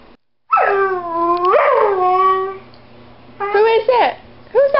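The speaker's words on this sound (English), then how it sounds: "He barked at himself in the mirror" A dog barking at its own reflection in a mirror lets out drawn-out howling yips and whines up close, in a few separate bursts with short pauses between.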